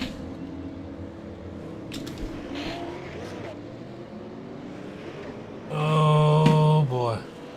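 Race cars at the Nashville Fairgrounds track, a low steady engine drone through the heat race that swells into a loud, close, sustained roar near the end as cars pass.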